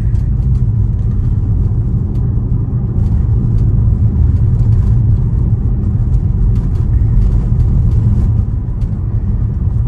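A Tesla electric car cruises at highway speed, around 75 miles an hour, giving a steady, loud low road and tire rumble with no engine rise or fall throughout.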